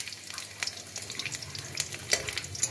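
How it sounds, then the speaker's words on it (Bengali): Chopped garlic sizzles in hot oil while being stirred, a close crackling fry with quick popping bursts and light scraping, with no one talking. "এবার এর মধ্যে একটু রসুন কুচি দিয়ে দিলাম"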